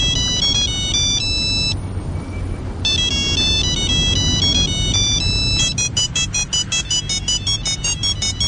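A mobile phone ringtone plays loudly in repeated bright electronic melodic bursts, pausing briefly before resuming in a faster pulsing pattern, with a low background rumble underneath.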